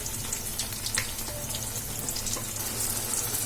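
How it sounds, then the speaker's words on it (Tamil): Roadside-style egg chili bajji deep-fries in hot oil, giving a steady, close, continuous sizzle and crackle with no talking. "இப்போ வந்து எல்லா பக்கமும் நல்லா ஃப்ரை ஆகட்டும்."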